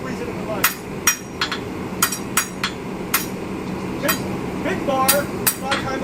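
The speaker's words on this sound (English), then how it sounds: "Big bar, a lot of times I'll just whack it on the anvil to straighten" Hammer blows ringing on a steel bar laid across an anvil, about a dozen sharp metallic strikes at an uneven pace over a low background rumble, close and clear with no talking.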